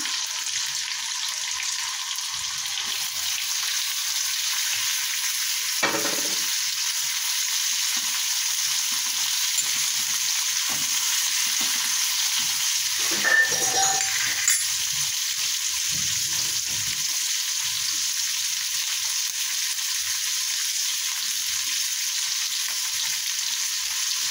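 Chopped green chilies fry in a pan with spices, a constant bright crackling sizzle lasting over twenty seconds, close and even, with a few faint knocks and stirring sounds underneath.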